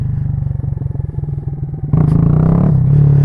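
A big-bore Honda Grom 125 (MSX125) with a 17-tooth front sprocket idles with a fast, chugging pulse, then the rider opens the throttle and the engine revs up loudly and holds in a power wheelie attempt.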